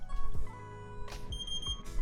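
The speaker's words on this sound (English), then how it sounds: "we got quick buzzer beeps, like 3 beeps at a very short interval" A few quick electronic buzzer beeps from an ESP32-based electronic voting machine detecting its SD card, sharp and high-pitched over a low mechanical hum.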